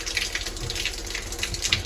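A tank-fed mixer tap runs water steadily, a close, continuous gushing splash that stays even for the whole stretch with no voice over it.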